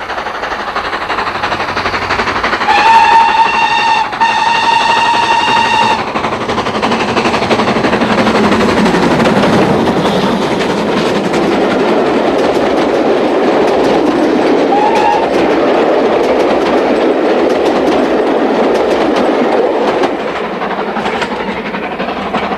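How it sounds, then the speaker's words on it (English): A steam tank engine labours loudly and steadily up the bank to Taraddig on the Cumbrian main line, its exhaust roaring continuously, with a brief whistle blast early on. "the tank climbs the bank to Taraddig on the Cumbrian mainline"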